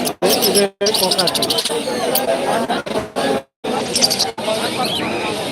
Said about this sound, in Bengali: সবগুলো লাভ পাখি